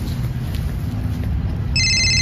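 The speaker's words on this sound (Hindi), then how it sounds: "अरे तेरा बज रहा, साइड में जा।" A mobile phone ringtone starts near the end, a bright repeating electronic tone that enters suddenly over a steady low background rumble.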